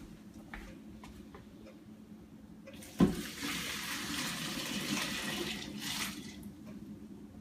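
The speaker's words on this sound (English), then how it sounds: "So we're going to take it over to the strainer to take out the water." Boiled noodle water poured from a pot into a kitchen strainer, a steady close splashing rush that starts abruptly with a clunk and runs on for several seconds before tapering.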